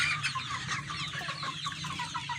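Free-range super village chickens cluck steadily and close by, several hens overlapping in a busy, continuous chatter with no talk over them.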